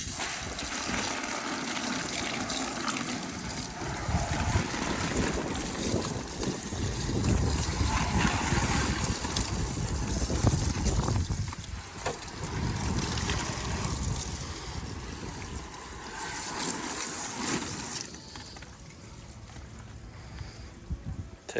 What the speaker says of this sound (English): Let's see what happens when we spray it with water.